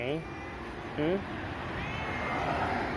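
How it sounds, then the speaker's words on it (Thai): A cat meows several times in short, clear bursts, with one louder, rising meow about a second in, close by over a low background hum. "รู้แล้วว่าเป็นแมว ไม่ต้องอ้อนขนาดนั้น"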